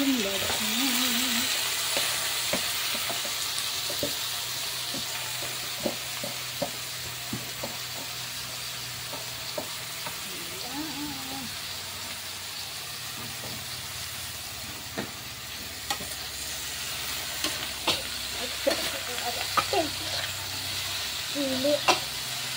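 Bamboo shoots (labong) for adobong labong fry in a pan with a steady crackling sizzle and hiss, broken by scattered clinks and scrapes of stirring; a voice talks briefly now and then over the cooking.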